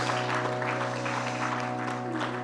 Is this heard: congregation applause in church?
yes